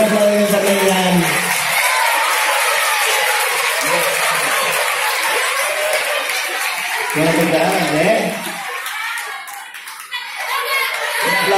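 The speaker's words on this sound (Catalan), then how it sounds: "Un aplaudiment a Eleina!" An audience at a Santa Cecília music school event claps for a young girl, a lively burst of clapping heard amid children's voices and adult chatter.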